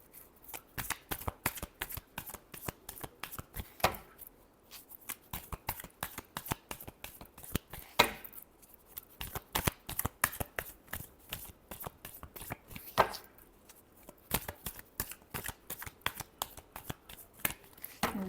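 A deck of tarot cards is shuffled by hand over and over, giving a close, crisp run of riffling flutters and soft taps.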